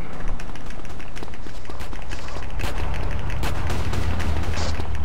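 Police gunfire in GTA San Andreas on PS4: repeated sharp shots and bursts over a dense, continuous game soundscape, fairly loud throughout.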